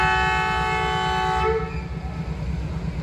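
The Awam Express train sounds a loud, sustained whistle as it departs Bin Qasim railway station in Pakistan; the whistle cuts off after about a second and a half, leaving the heavy rumble of the train.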